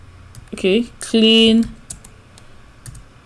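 Keystrokes on a Windows computer keyboard: a few sparse, close clicks spread across the moment, alongside brief tonal, voice-like sounds.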